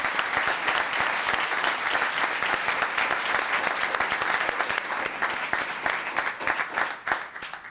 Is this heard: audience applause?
yes